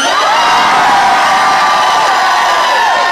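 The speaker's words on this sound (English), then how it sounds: "Hold on really fast. Just scream. Go ahead." A concert crowd at a show bar screams and cheers, a dense, loud wall of high-pitched shrieks and whoops held steadily for a few seconds.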